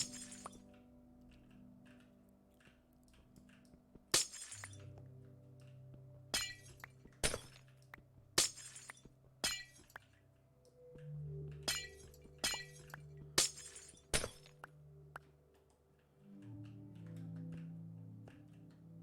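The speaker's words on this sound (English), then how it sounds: "The glass noise is too much." Glass blocks breaking in Minecraft, a series of sharp shattering crashes scattered unevenly over a low game background hum, loud and close with gaps of quieter placing sounds between.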